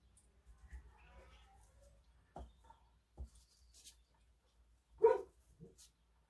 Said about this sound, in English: And there's my dog barking.